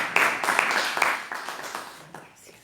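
A church congregation claps together after a Spanish-language prayer, a burst of scattered hand claps that thins and fades out over a couple of seconds, with some voices mixed in.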